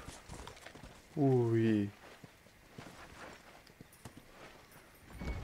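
Horse hooves clip-clopping in Red Dead Redemption, a steady light patter of steps through the clip, with a short spoken exclamation in the middle.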